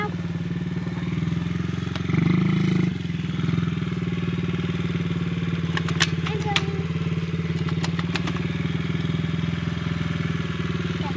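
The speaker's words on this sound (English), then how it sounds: "what do you think of the dirt bike being all put back together, fancy and all?" A rebuilt dirt bike engine holds a steady mid-pitched idle drone throughout, with a brief rev and scattered clicks and clatter nearby, while people talk over it.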